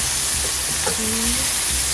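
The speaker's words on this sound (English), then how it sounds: "I fry down the onions and all the seasoning." Onions and seasoning sizzle steadily in a hot pan for Jamaican brown stew fish, a constant close frying hiss with faint clinks and a soft hum underneath.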